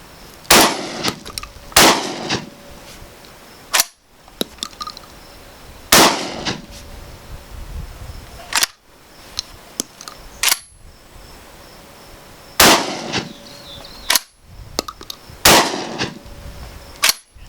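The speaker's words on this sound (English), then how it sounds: "I'm gonna go ahead and hip fire again and see if we can repeat the results we got from the Winchester." An American Tactical TacSX2 shotgun hip-fired outdoors with Suprema shells, several loud sharp blasts spaced a couple of seconds apart, each followed by brief mechanical clatter of the action cycling.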